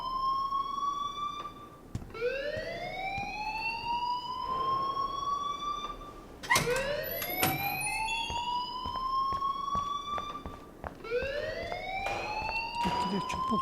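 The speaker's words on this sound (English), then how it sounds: "please turn off that alarm since that's your job" An alarm from the Life is Strange video game whoops loudly upward in rising tones, repeating three times with sharp clicks between cycles.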